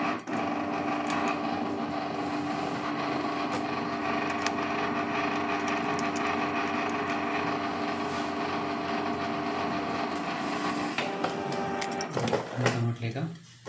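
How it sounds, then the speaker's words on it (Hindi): A Canon G-series inkjet printer prints a page with a continuous mechanical whir and buzz, then clattering feed movements near the end, while a person talks nearby. "देखिए यहाँ प्रिंटिंग होने लगा।"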